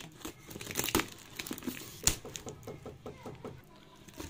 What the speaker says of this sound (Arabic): تعالوا بقى نفتح الكرتونه